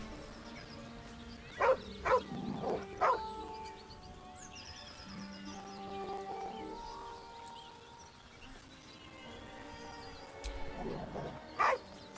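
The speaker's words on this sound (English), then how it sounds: "The dog lowers his hackles, his head tilted inquisitively." A dog in Baldur's Gate 3 barks in short, sharp bursts with low growls and whimpers between them, fairly close and set against quiet ambient game music, with no talking.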